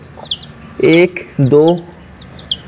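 A hen clucking loudly in two bursts, while pet chicks peep faintly and repeatedly in the background; a voice briefly speaks as well.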